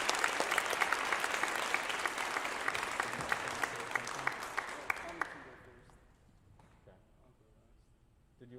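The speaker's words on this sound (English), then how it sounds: "Let's give them a round of applause as well." Applause for graduating seniors at a high school orchestra concert, a steady crowd of clapping hands that fades out after about five seconds into quiet room murmur.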